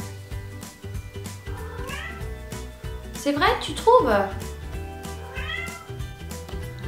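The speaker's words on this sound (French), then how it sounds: "ce chat ne demande qu'à manger" A cat meows several times, with drawn-out rising and falling cries that peak in a louder cluster midway, over background music while someone talks.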